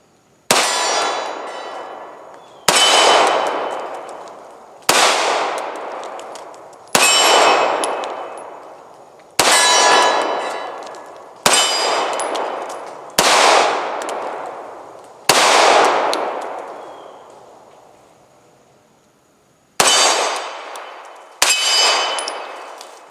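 A CZ 2075 RAMI compact pistol fires at steel targets, with ten sharp shots each followed by a ringing metallic clang, spaced a second or two apart, with a longer pause before the last two. The sound is loud and close, with no talking.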